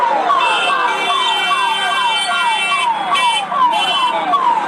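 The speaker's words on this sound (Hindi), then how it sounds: "लीजिए, यहाँ एम्बुलेंस आपको दिख रहा है" An ambulance siren wails loud and close in a rapid repeating sweep, cycling evenly for the whole stretch with faint street noise beneath.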